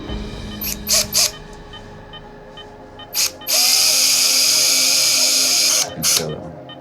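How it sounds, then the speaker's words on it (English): A surgical drill drives screws into a puppy's bone: short bursts of high-pitched whine, then one long sustained run of several seconds, followed by a final brief burst; no talking. "as long as that drill keeps working"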